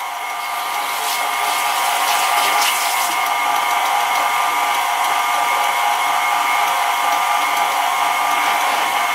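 An electric mixer beats an avocado, almond and flax seed bread batter, producing a loud, steady, high-pitched whine close up without a break.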